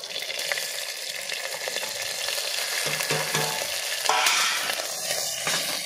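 Cumin seeds sizzle and crackle in hot oil, a steady bright fry with a few stirring clatters and a louder burst near the end, close and without voices.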